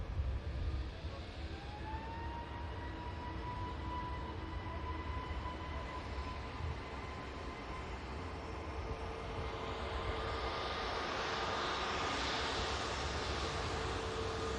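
A Pegasus airliner taxiing at Manchester Airport, heard as a steady, fairly distant jet engine whine and rumble that holds throughout and swells slightly louder toward the end, with no talking.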